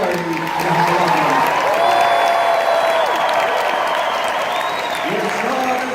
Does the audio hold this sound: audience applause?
yes